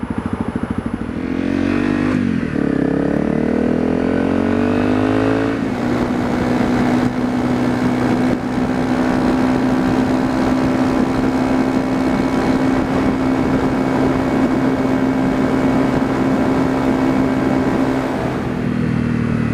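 A motorcycle engine sits loud and close as the rider accelerates uphill in sixth gear. Its tone rises, then holds a strained, steady drone with wind rush.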